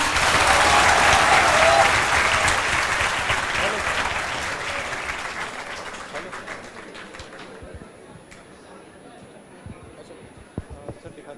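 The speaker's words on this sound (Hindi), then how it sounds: "तो सर के लिए एक बार वापिस जोरदार तालियां।" Enthusiastic group applause that starts loud and gradually fades into scattered claps and a few voices murmuring as it dies away.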